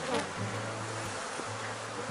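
Honeybee swarm in a beehive, a close, steady buzzing drone of many bees with a brief break partway through, heard alone without talk.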